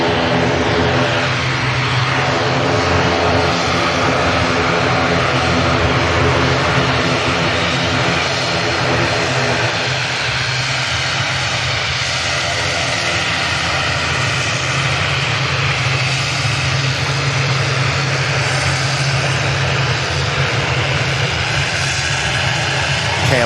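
A KLM airliner accelerates down the runway on its takeoff roll at Manchester Airport, a loud, steady jet roar that fills the whole stretch and swells slightly as the engines spool to full power.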